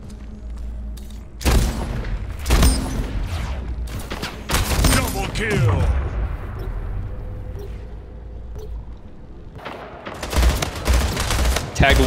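Gunfire in the video game Splitgate, bursts of battle rifle shots and heavy booms repeating in clusters over a rumbling game soundtrack, loud and close.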